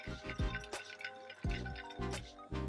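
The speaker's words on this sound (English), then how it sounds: "Just a quick stir until it's chilled and nicely diluted." Ice clinking in a mixing glass as a bar spoon stirs a Boulevardier-style cocktail made with non-alcoholic Lyre's spirits; a few close, bright clinks and rattles in irregular bursts, quiet and alone.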